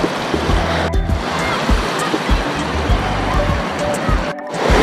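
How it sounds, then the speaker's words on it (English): Small streams flowing toward Dainthelin Falls make a steady, loud rush of water that carries on without a break from start to finish. "These are the small streams which connect and flows at the beautiful falls known as Dainthelin Falls."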